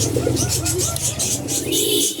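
A male kaldal pigeon at a bird market coos repeatedly in a rhythmic, throaty series of close, loud calls, with other birds chirping faintly behind.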